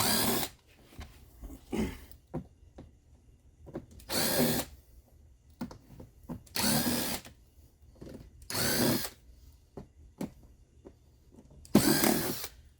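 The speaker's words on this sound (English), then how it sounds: "We're going to start by removing this panel, 6 Phillips screws." A cordless drill-driver backs six Phillips screws out of the panel on a Firman 3650 inverter generator, with five or six short, loud whirring bursts spaced by quiet pauses and light handling clatter between them.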